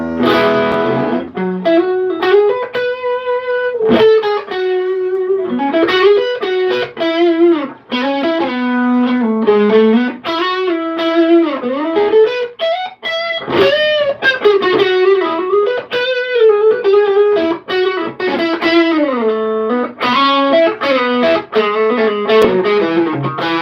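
Electric guitar through an amp's distortion channel plays a sustained, singing melodic line of held notes and bends, loud and continuous, with a live-performance feel and no talking.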